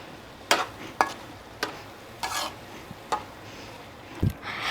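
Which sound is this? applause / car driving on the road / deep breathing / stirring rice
stirring rice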